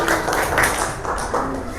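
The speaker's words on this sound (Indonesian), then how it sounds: "tepuk tangan untuk Wildan" Third-grade classroom pupils clap for a classmate named Wildan, a brief patter of many small hands rising and fading within a couple of seconds, with children's voices faintly mixed in.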